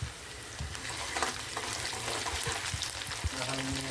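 Village goat mutton curry masala with red chilli and garlic paste sizzles in a pan while being stirred, soft frying hiss broken by scraping and clinking stirs, fairly quiet with no talking.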